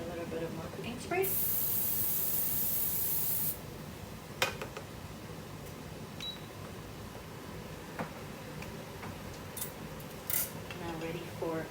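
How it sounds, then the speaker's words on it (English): Cooking spray hisses into a pot for about two seconds in a short bright burst, near and fairly loud, followed by quieter kitchen handling noises and scattered clicks. "Put a little bit of more cooking spray."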